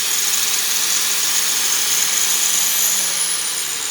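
Grinder working the top of a steel weld on a mini-mill setup, a steady high-pitched whine with a continuous broadband hiss holding level for the whole stretch, close and loud, with no talking.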